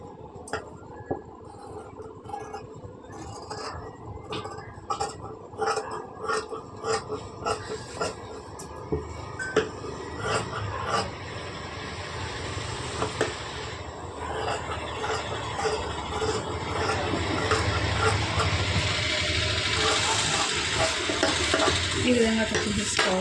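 Scissors cut through blouse fabric on a tailoring table, making close, repeated crisp snips and rustling cloth that run steadily for about twenty seconds and blend into a denser scraping near the end.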